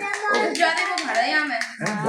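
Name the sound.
child clapping hands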